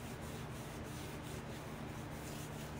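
Gesso being rubbed into a highly textured painting, a continuous dry scrubbing rasp with faint rhythmic pulses, close and quiet with no voices.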